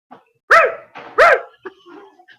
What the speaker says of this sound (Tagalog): May kasamang tahol.